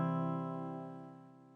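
Acoustic guitar chord strummed from the fifth string down in a beginner lesson, one rich chord ringing out clearly and slowly fading over about a second and a half, with no voice.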